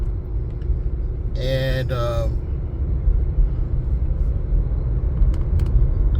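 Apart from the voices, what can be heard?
driving a 2017 Ford Fiesta car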